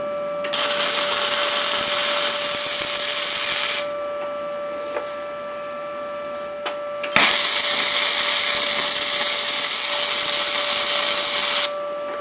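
An Arccaptain MIG 200 welder set to 100 amps welds scrap metal in two long bursts of loud, steady crackling hiss, separated by a quieter pause with a faint tonal hum and a few clicks.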